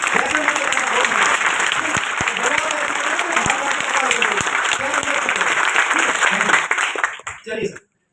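A live Hindi business-plan seminar audience applauds loudly and steadily for about seven seconds, with a voice talking over the clapping throughout. The clapping then stops abruptly.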